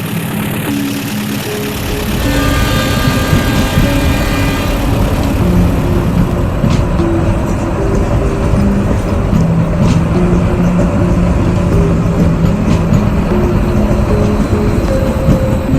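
A runaway train locomotive rolls along with its brakes not fully checked, giving a steady, loud rumble of heavy rail movement with sustained tonal hums and squeal-like lines throughout, no voices.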